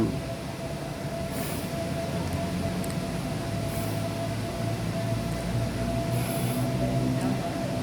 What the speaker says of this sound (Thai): นี่จะเป็นรถไฟท่องเที่ยวมากกว่า